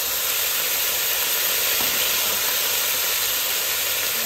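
Chopped bottle gourd, tomato, chili, onion, carrot and green chili sizzle in hot oil with a steady, dense hiss that holds evenly throughout, close and fairly loud, with no talking.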